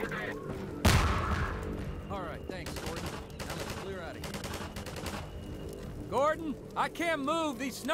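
Sniper gunfire in Half-Life 2, with a sharp loud shot near the start followed by ongoing battle noise, repeated firing and a voice speaking over the action.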